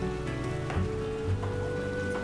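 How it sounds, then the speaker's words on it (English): Rain pattering in The Witcher game, an even, unbroken wash of drops on surfaces with a faint low hum beneath and no voices. "Somehow it's mysteriously still raining over here."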